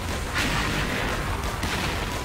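A dense, roaring burst of noise from an explosion in the video game XSHOT, loud and continuous, with no talking.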